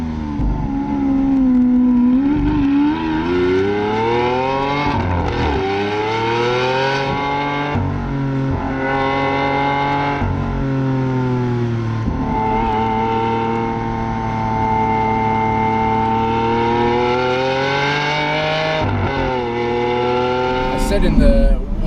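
A Lamborghini Aventador SV's engine revs loudly nearby, rising and falling through repeated high-pitched sweeps with sustained screaming holds, under occasional talk.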